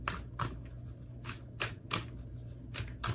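Oracle cards are shuffled by hand in quick, crisp riffling bursts, about eight soft flutters spaced irregularly, close and quiet over a low room hum.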